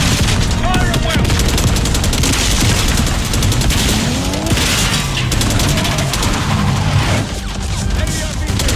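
Dense battle gunfire from the Black Ops 6 campaign mission The Cradle, with rapid automatic bursts, booming impacts and constant loud shooting, while voices call out over the din.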